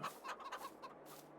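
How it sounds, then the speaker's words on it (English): Newly acquired backyard chickens clucking close by, a quick string of short, throaty clucks with no talk. "I really like my new chickens"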